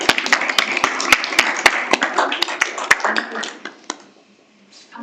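A seminar audience applauding a math society undergraduate speaker, close sharp individual claps over a busy room, thinning out and fading before a voice begins.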